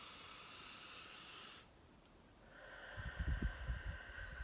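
A slow, deep breath drawn in during a calming exercise, a soft airy hiss that fades out, then returns with a fuller, rougher inhale and low snuffling at the end, close and alone.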